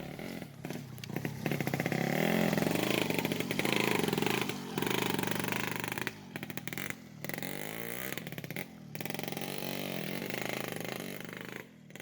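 A motorcycle carrying ballot boxes along a footpath through dense Papuan forest, its engine droning and revving up and down continuously nearby, with brief dips in the sound.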